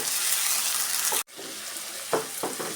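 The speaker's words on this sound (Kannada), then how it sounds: "ಶುಂಠಿ ಬೆಳ್ಳುಳ್ಳಿ ಪೇಸ್ಟು ಒಂದು ಸ್ಪೂನ್ ಸೇರಿಸ್ಕೊಬೇಕು ನೋಡಿ ಸೇರಿಸಿ ಹಸಿ ವಾಸನೆ ಹೋಗೋವರೆಗೂ ನಾವು ಆಯಿಲಲ್ಲಿ ಚೆನ್ನಾಗಿ ಫ್ರೈ ಮಾಡ್ಕೊಬೇಕು" Ginger garlic paste frying in hot oil for egg fried rice, a dense steady sizzle that cuts out for an instant midway, then returns with a few louder scraping stirs over the hiss.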